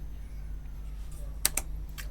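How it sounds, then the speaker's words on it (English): A few computer keyboard keys are pressed during 3D modeling work, two or three sharp, quiet clicks close together near the end over a faint low hum in an otherwise quiet room. "select one vertices, hit L and P on the keyboard"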